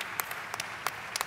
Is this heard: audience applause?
yes